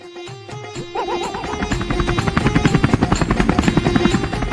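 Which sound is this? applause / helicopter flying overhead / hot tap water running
helicopter flying overhead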